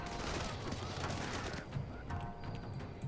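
Massed musket volleys in a Shogun 2 battle, a dense continuous crackle of gunfire with horse hooves and battlefield clatter mixed in, loud and sustained throughout.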